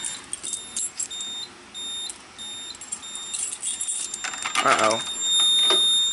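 Repeated short electronic beeps from a fire alarm panel in an intermittent pattern, with people talking and handling noises nearby.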